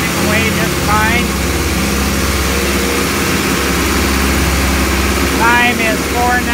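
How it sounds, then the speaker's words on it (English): Hino 135 HP truck engine held at 2,000 RPM, a loud steady drone with someone talking over it throughout. "You can hear the engine just running away just fine."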